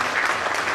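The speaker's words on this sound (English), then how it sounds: "A big round of applause for these guys." Dense, steady applause from a conference audience in Kolkata, many hands clapping together at an even, fairly loud level through the whole brief moment, with no gaps.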